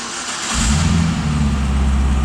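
A supercharged V8 in a 2011 Cadillac CTS-V Coupe fires up after a short quiet moment, then settles into a loud, deep, throaty rumble right up close.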